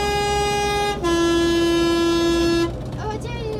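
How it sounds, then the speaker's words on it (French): A train horn blares loud and close in one long sustained tone that briefly shifts pitch, then cuts off, leaving the rumble of the passing train and a vehicle on an offroad track between Tolar Grande and San Antonio de los Cobres. "c'est le train de la Nouvelle"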